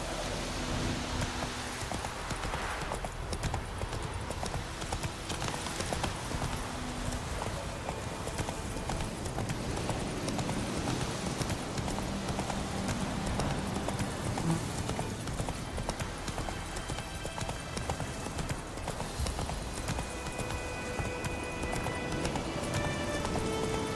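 Roach the horse gallops steadily in The Witcher 3, a continuous loud, dense clatter of hoofbeats that runs the whole time over rain-like wash and ambient game noise, with no speech.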